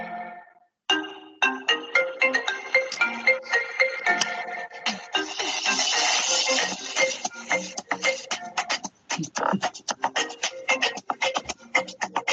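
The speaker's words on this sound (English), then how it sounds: "What if the iPhone ringtone was made in South Africa?" A playful reimagining of the iPhone ringtone as if made in South Africa, loud and rhythmic, with a repeating melodic pattern of short percussive notes that grows denser toward the end.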